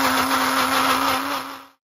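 A mixer grinder grinding coconut chutney paste whirs steadily at high speed with a strong, even motor hum, then spins down and stops near the end.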